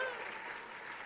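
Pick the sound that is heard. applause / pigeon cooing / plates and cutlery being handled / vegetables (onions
applause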